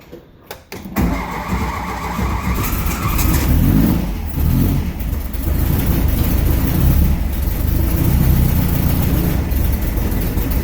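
A rebuilt engine with higher compression cranks and fires up, then settles into a loud, lumpy, uneven idle that rumbles steadily close by for the rest of the clip.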